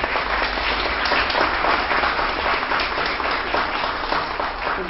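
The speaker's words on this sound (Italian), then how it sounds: "io mi direi a dare un applauso" Congress hall audience at a union meeting claps in a steady, fairly loud round of applause lasting several seconds, with no voices over it.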